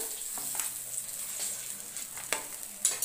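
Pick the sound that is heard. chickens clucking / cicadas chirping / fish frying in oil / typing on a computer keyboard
fish frying in oil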